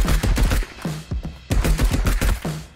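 Rapid bursts of BAR rifle fire with an extended magazine in the video game Marauders, two long volleys of closely spaced, punchy shots separated by a brief pause, loud and close, with no talking.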